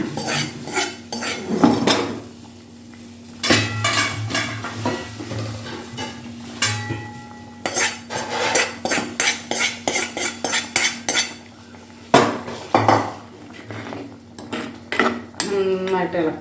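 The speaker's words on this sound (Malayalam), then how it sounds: "നന്നായിട്ട് ഇളക്കണം. മീൻ പൊടിഞ്ഞു പോരും കേട്ടോ, ശ്രദ്ധിച്ചു വേണേ." Dried fish and tomato curry with spice paste stirred in a metal pot, ringing clinks and scrapes of a spoon against the pan in quick bursts over a low sizzle, close up, with no one talking.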